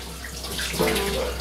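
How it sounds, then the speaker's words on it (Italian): Tap water runs steadily nearby with a soft splashing as handmade butter is rinsed and kneaded under the stream. "Ogni tanto lo passi sotto l'acqua perché sennò col caldo delle mani non lo riesci più a usare."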